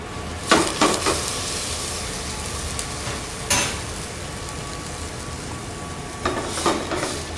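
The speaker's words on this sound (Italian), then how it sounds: "Il soffritto è pronto, aggiungiamo le lenticchie." A soffritto of celery, carrot and onion fries in a pan with a soft continuous sizzle, broken by a few louder scrapes and stirring knocks, close and moderately quiet.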